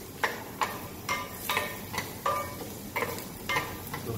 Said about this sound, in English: So give it a fry.